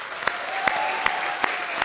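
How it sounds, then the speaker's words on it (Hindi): An audience at a televised Hindi performance show gives a brief, loud round of applause, a thick wash of clapping with a few sharp claps popping out over roughly two seconds. "तो भाई हमारे आज के सुपरस्टार राजा के लिए एक बार जोरदार तालियां हो जाए"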